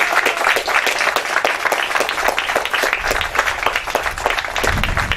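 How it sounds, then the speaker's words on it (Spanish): Crowd applauding at a restaurant grand opening, a grill house: loud, dense clapping with sharp individual claps standing out, sustained evenly for about five seconds. "Es que vamos a darle un fuerte aplauso a él."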